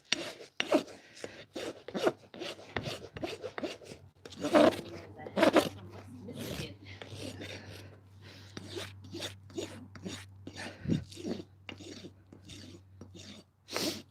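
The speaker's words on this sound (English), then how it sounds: "going to use the soft side of my rasp. Finer side, not necessarily soft." The finer side of a rasp files a hoof during hoof trimming, making close, rhythmic scraping strokes that repeat steadily throughout, with a few brief voice sounds in between.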